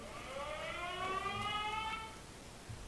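Air raid alert siren, faint and distant, with a rising and falling wail sounding alone for a few seconds against quiet background noise.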